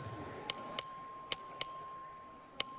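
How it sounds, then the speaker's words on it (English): Voting bell rung in the Texas House chamber during a record vote: five sharp electronic dings in an uneven pattern, clear and close, with no talking. "The clerk will ring the bell."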